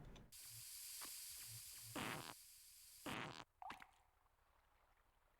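Fart sound effects from the video game Space Station Silicon Valley, a few bursts of harsh, hissy sputtering over steady game background noise, fairly faint overall.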